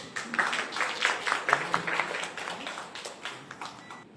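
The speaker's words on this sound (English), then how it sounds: "Let's welcome them on the stage with a round of applause." Scattered clapping from a book-launch audience welcoming two authors to the stage, a modest crowd with individual claps audible, fairly soft and gradually thinning toward the end.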